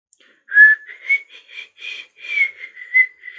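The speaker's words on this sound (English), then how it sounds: "I hate whistling" Whistling in the video game Sonic Frontiers: a clear, close melodic whistle of wavering tones and short phrases, alone against silence.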